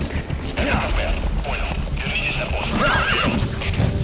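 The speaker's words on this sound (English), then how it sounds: "riding through the desert on your horse" In the video game Metal Gear Solid V: The Phantom Pain, a horse whinnies over steady clip-clopping hooves while riding through desert, with a busy background of creaks and mechanical noise.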